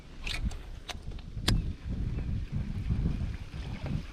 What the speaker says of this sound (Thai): ลมก็มาเป็นช่วงๆนะครับ